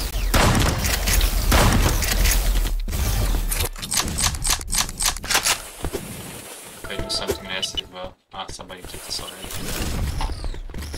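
Shotgun blasts in the browser shooter ev.io, with sharp repeated reports and mechanical clatter under a player's chatter, busy at first and then sparser with small clicks.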